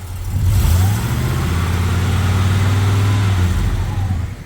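A 1979 Camaro with a swapped LS engine revs up loudly and holds a deep, throaty roar for a few seconds before easing off, close and without talk.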